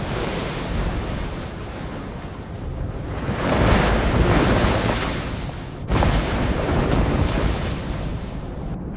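Loud ocean surf surges along a shore, a steady roar that swells into a heavier wave crash midway, then a second surge, with wind buffeting the microphone.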